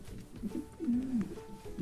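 A King pigeon, a heavy show bird of about one kilogram, coos in low, throaty rolls several times while held in the hand, close and fairly clear.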